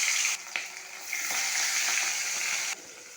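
Salted, turmeric-coated hilsa pieces hit hot mustard oil in a kadai with a loud, bright sizzle, which steps up as pieces drop in and then holds as a steady crackling fry.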